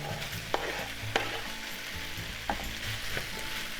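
Sliced onion and pork frying together in a pan for Japanese ginger pork, a steady close sizzle with a few sharp clicks of a utensil stirring against the pan, no voices.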